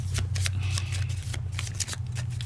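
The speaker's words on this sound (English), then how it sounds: "All right, this is quite a few shuffles." Board game cards for Pandemic Legacy Season 2 being shuffled over and over, a steady run of close, crisp riffling and flapping bursts over a low background hum.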